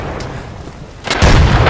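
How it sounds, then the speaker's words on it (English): Video game grenades going off one after another around the player, heavy booming blasts that swell into a loud, dense roar near the end. "this is now 16 grenades that have gone off, and they're continuing to just go off around me"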